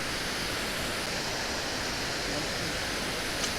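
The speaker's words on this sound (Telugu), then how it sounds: "crazy water falls" A waterfall in Telangana roars in a constant, dense rush of water, steady and loud throughout.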